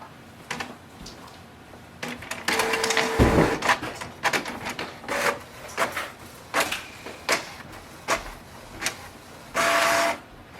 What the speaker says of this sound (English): Click yes to print the nozzle check sheet.